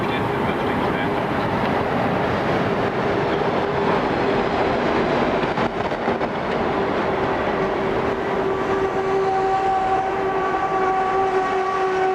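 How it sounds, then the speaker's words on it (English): An ÖBB class 1042 electric locomotive in red and grey livery slows with a stopping passenger train in Austria, a steady, loud rumble of wheels and motors with a sustained tone rising near the end. "locomotive number 1042-648 slows with a stopping service at Prinzersdorf"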